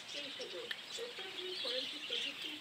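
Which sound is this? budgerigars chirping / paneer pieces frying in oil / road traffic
budgerigars chirping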